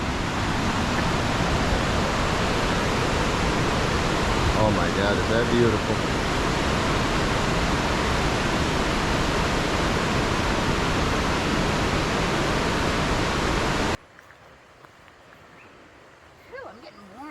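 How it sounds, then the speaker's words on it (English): A waterfall on the Dosewallips River trail in Olympic National Park roars as a loud, steady broadband rush close by, with a voice briefly exclaiming over it before the sound drops away near the end. "Here's the first waterfall"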